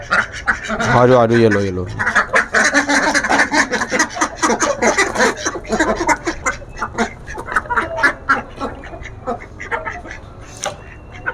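Many ducks quack noisily and continuously, close by, in a busy chattering chorus while a person calls out to them.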